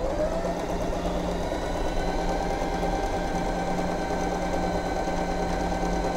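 An Usha Wonder Stitch sewing machine runs a continuous stitch, a steady fast mechanical whir and clatter close up, alone without talk.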